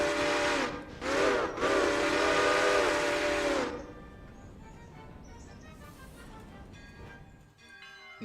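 A loud steam train whistle sounds in a modded railroad video game, two short blasts followed by one long sustained blast, then fading into quieter bell-like tones and background sounds.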